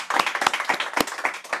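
A single person claps by hand for the players of an amateur football team, a quick run of about a dozen sharp, close claps in an uneven rhythm.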